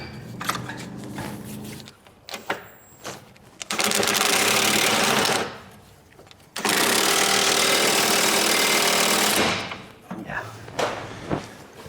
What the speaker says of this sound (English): let's get in there with a ratchet and try walking it out a little bit